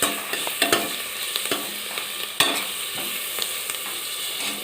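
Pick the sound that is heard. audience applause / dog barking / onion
onion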